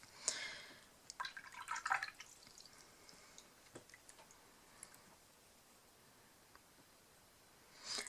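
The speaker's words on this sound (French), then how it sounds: "je vais mouiller mon pinceau" A watercolour paintbrush dipped and swished in a glass of water gives faint, close splashes and soft clinks of the brush against the glass in a short flurry, then scattered light ticks and a final swirl.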